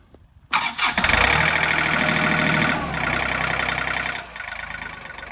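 A John Deere tractor engine cranks briefly and catches with a loud surge, then settles into a steady, close diesel idle that softens slightly toward the end.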